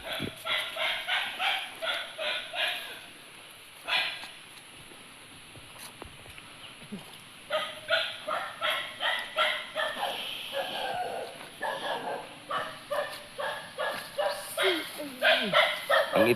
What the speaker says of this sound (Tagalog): Yan lang po kasama niya dito, mga tuta.